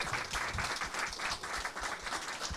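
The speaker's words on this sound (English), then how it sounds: "Can we get a round of applause, please, for everyone?" Audience applause at a film screening and remarks event, a dense continuous patter of many hands clapping, even and sustained at moderate loudness from a crowd in a hall.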